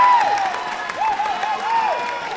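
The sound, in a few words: crowd cheering at a fencing bout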